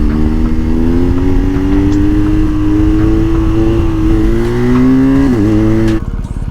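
A 2022 BMW R1250 GS Triple Black motorcycle, ridden while trying to lift the front wheel, roars loud and close, its engine pitch climbing steadily, dipping briefly near the end, then cutting off abruptly.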